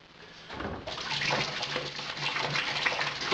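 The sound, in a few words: pouring water into beer fermenter for mixing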